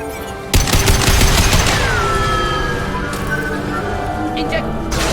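Rapid gunfire bursts in Mass Effect 2, aimed at injection tubes, erupt loud and close after a brief lull, followed by a long descending whine and lingering mechanical hum.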